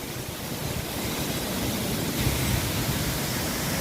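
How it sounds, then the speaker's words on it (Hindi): The Jogidhara waterfall near Joshimath pours with a dense, steady hiss and rush, loud and unbroken, with no voices over it. "अभी हमने जोशीमठ में स्थित जोगीधारा वाटरफॉल के दर्शन किए। बहुत ही सुंदर झरना"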